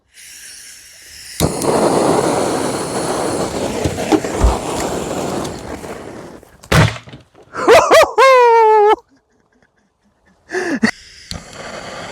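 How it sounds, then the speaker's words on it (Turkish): Five firecrackers go off inside a refrigerator: muffled bangs and a long crackling hiss from the enclosed box, followed by a few sharp thuds and excited voices laughing. "Evet arkadaşlar şimdi 5 torpili atıyorum."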